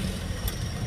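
A motorbike engine drones past at close range, a steady low rumble that swells briefly and carries on without any voices.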